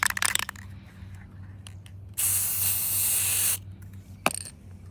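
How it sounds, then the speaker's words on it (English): Aerosol spray can of clear coat spraying onto a pickup truck box part on a Ford F-250, a steady close hiss lasting over a second amid quiet background clatter. "I want to show y'all what happens if you spray the box with the can I used the first time."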